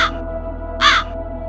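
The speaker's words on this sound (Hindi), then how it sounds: "उसी पेड़ के ऊपर 2 कौवे बैठे थे।" Two crows perched in a tree give two harsh caws, a short one then a louder, longer one, over a steady low electrical hum.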